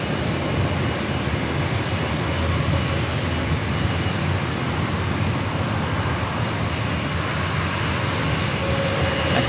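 An American Airlines Boeing 737-800 arriving from Chicago O'Hare at San Diego airport, a steady broad jet-engine roar held loud and close throughout with no break.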